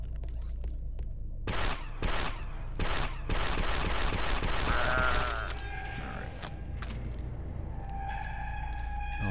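Shotgun blasts in the Star Wars Republic Commando video game: a few loud, sharp booms in quick succession near the start, then a dense burst of rapid gunfire, fading into game ambience with tonal electronic effects.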